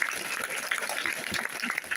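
A crowd claps at a charity association gathering in Burundi, giving a brief burst of dense, steady applause from many hands in the room.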